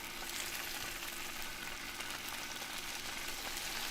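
Walleye fillets cut into small pieces fry in a hot skillet at an outdoor catch-and-cook, a steady soft sizzle that holds evenly throughout with no voices over it.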